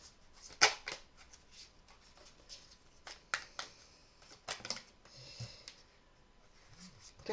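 Tarot cards being shuffled by hand, a series of soft papery riffles and flicks with a few sharper snaps, fairly quiet and close with no talking.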